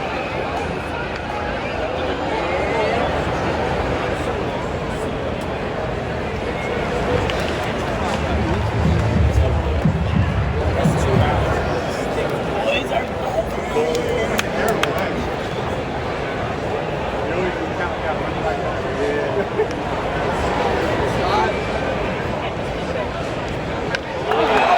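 A baseball stadium crowd at Citizens Bank Park murmurs and stirs with rising chatter at two strikes, a broad steady roar of voices with a swell in the middle and someone talking nearby.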